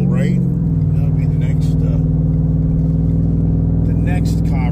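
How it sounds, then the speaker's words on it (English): A race truck engine rumbles loud and close as it pulls up the road, a steady deep throaty drone holding for several seconds with slight rises in pitch, no talking over it. "Just in here, just likes to rumble up the road."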